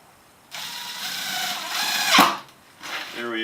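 A power driver runs screws into a 2x board on a small four-wheeled wooden cart, a steady whirring ratchet that rises, peaks in a sharp burst, briefly stops, then starts again, close and loud.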